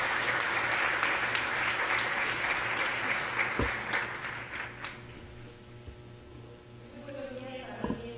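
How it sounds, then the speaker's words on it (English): An audience at a Lasallian education congress gives dense applause that is loud at first, then thins and fades over several seconds, with a few isolated claps near the end. "Now let's give her a big applause"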